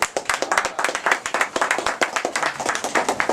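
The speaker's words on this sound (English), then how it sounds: "So I want to give these guys a round of applause" A small group at a winter baseball camp gives a round of applause, a brisk run of distinct, fairly close hand claps in quick uneven rhythm, lasting several seconds without speech.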